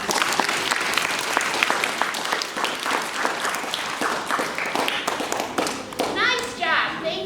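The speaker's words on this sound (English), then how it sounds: "Give yourselves a round of applause." An audience at an elementary school instrumental music showcase claps loudly and steadily for several seconds, with a few voices rising near the end as the applause fades.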